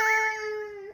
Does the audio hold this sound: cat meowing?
yes